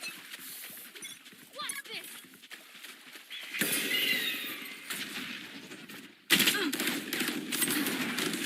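Gunfire crackles in bursts during a competitive Valorant esports match, mixed with other game effects under steady caster commentary.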